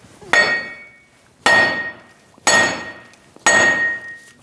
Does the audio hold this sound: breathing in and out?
no